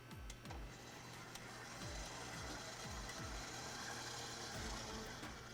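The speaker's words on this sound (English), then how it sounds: "And now I mix all the dry ingredients." Dry ingredients for shish barak dough are stirred together in a bowl, giving a steady, close scraping and clicking with repeated rhythmic strokes, and no voices.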